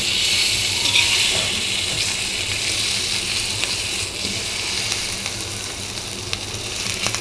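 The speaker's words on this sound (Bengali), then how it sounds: "এদিকে মাছ ভাজা হচ্ছে। মাছ ভাজাটা একটু ভাজে না হলে ভালো লাগে না।" Fish frying in a pan as part of a mixed five-vegetable dish, with a steady, close hiss and sizzle of hot oil running alone throughout.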